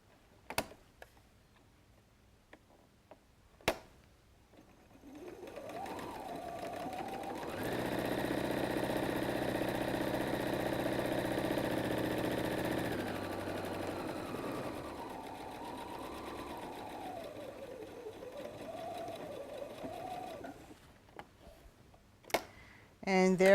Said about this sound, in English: And now I'm going to go and sew the other side.